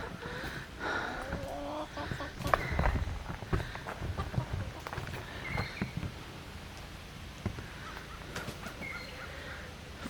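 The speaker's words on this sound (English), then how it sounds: "Four roosters." Four roosters clucking in a backyard pen, repeated close clucks and short calls scattered over steady background, with occasional footsteps and light shuffling.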